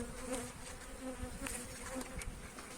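Honeybees buzzing steadily around an opened beehive during an inspection, a continuous soft drone with individual bees passing near, fairly faint and without talk.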